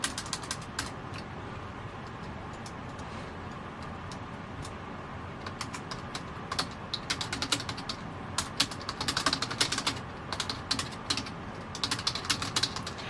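Someone types on a computer keyboard, a quick, irregular run of clicky keystrokes that speeds up into dense bursts near the end, close and clear against a quiet room.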